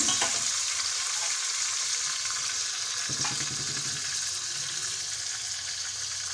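Steady sizzling of spices frying with garlic and ginger in a hot pan, with occasional stirring and scraping near the start and around the middle.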